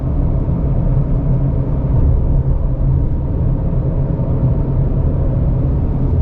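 A 2020 Subaru Crosstrek driven hard through turns, heard from inside as a loud, steady low engine and road rumble without a break.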